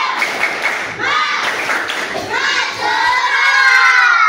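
Students standing in a classroom perform the 'tepuk semangat' rhythmic clapping chant, with loud clustered claps and thumps mixed with excited children's shouting and cheering voices.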